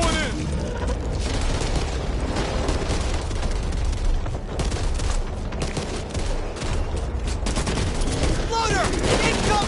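Back 4 Blood gunfire, dense bursts of rapid shots and booming blasts rattling on nonstop, loud and close, with voices talking amid the shooting.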